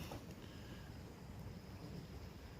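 A lit propane camping stove burner burns outdoors, giving a low, steady roaring hiss with a breezy, rumbling texture, faint and continuous, with nobody speaking.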